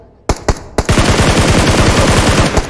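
Gunfire from a PUBG Mobile match with an AKM rifle: three sharp single shots, then a dense rapid automatic burst of about twenty rounds that fires steadily for nearly two seconds, loud and close, with no talking.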